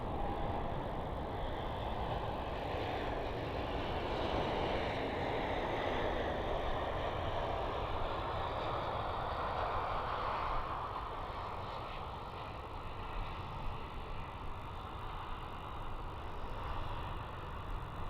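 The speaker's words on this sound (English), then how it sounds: "Landing. Another Embraer coming in." An Embraer jet lands at Helsinki Airport, its broad, steady roar of engine and airflow noise rising and fading across the whole stretch, distant to mid-range, with no talk.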